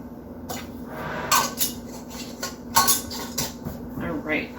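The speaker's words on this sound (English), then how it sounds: "So I'm just going to go ahead and get these rings on." Metal canning rings screwed onto lids on glass jars of home-canned beef stew, giving clinking metal-on-glass taps and scraping twists, close and intermittent.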